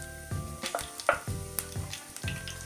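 Cumin seeds sizzling in hot oil in a kadhai, crackling close and fairly loud in several short pulses while a spoon knocks against the pan.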